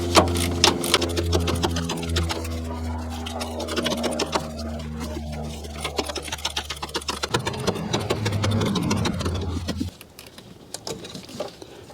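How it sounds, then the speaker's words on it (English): Ratchet clicks and metallic turning while loosening the alternator belt adjuster bolt on a long threaded rod of a Toyota Highlander 1MZ-FE engine, a dense stream of close tool noise with a steady hum that drops away near the end. "now we need to loosen the adjuster bolt here. This is a long threaded rod."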